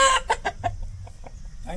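A fighting rooster clucks in a quick series of sharp, close calls, several bursts spaced irregularly over a quiet farmyard background.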